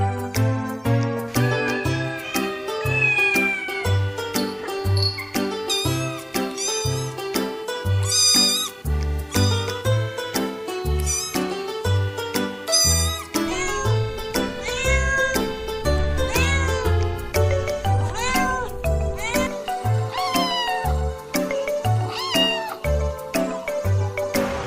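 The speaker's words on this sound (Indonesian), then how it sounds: "Kucing." A cat meows repeatedly, with a run of loud, close, drawn-out calls and some wailing cries over a rhythmic jingling musical backing.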